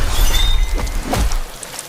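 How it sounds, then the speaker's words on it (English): Hard keratin scales shatter under a heavy impact, a loud deep crash with a bright splintering crackle that fades out over about a second. "The keratin scales, so resistant to heat, shatter under the kinetic force"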